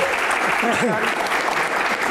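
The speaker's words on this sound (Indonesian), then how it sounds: "Kita tepuk tangan untuk Gian" Studio audience applauding on an Indonesian talk show, steady dense clapping throughout, with voices and brief tonal vocal sounds audible over it.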